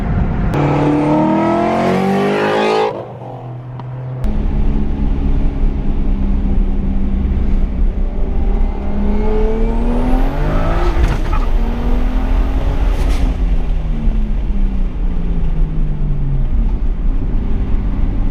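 A loud car engine revs hard and roars continuously as the vehicle accelerates, with rising and falling pitch from gear changes.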